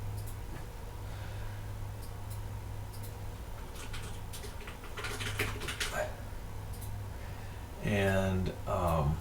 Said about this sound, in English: I'm just going to type in some numbers in here just as an example